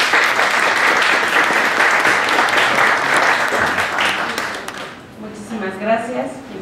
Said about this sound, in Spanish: le demos un aplauso de bienvenida a la maestra Amparo